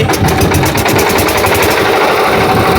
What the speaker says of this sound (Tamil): இப்போ இன்ஜின் ஸ்டார்ட் பண்ணியாச்சு